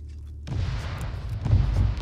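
A tank struck and blowing up in the Arma 3 military game, a sudden loud low boom at about half a second that rolls on into a rumbling blast, with a second heavy surge shortly after.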